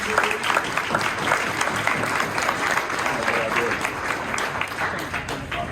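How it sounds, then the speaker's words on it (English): An audience at a school board meeting breaks into sustained applause, a dense steady wash of clapping that carries through the whole stretch, with some voices mixed faintly into the crowd. "So one more round of applause for everybody."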